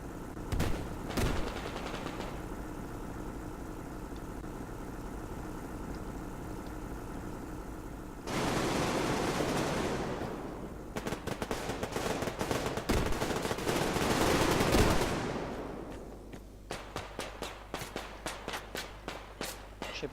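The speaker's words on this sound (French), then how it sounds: "Je sais pas qui me tire dessus, mais en tout cas il est pas doué." Gunfire in the shooter game Survarium: rapid automatic bursts and sharp single shots come in clusters, some loud and close, with a low engine-like hum and footsteps between volleys.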